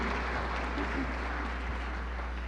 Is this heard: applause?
yes